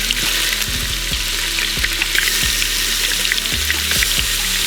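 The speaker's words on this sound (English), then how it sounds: "Essentially, I'm just gonna cook, or brown, I should say, all 4 sides." Wild hog pork browns in bear fat in a pan, giving a loud, continuous frying crackle with scattered pops throughout.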